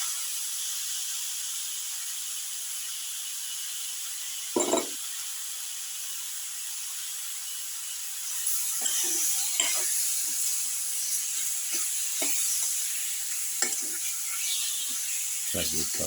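Steady hissing sizzle of chicken pieces frying in a pan, with occasional clinks and scraping of a utensil partway through.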